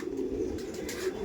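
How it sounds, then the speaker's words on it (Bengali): Several Chennai-breed Madrasi pigeons keep up an unbroken, low rolling coo, nearby and even in level, alone without speech. "এটা চেন্নাই ব্রিডের পায়রা বললেন, তাই তো?"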